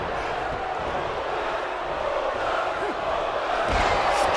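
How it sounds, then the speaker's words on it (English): Wrestling arena crowd at a 4th of July show, a broad, steady roar of massed voices chanting Goldust, heard from within the audience and swelling slightly toward the end. "Crowd's chanting Goldust"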